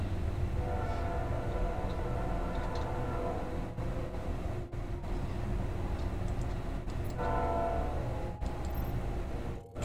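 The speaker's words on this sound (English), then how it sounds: "there's a set of train tracks that's like just behind, not just behind the house, but they're back there." A train running on tracks behind a house, its horn blowing in long tonal blasts, once early and again later, over a continuous low rumble of rolling wagons, moderately distant.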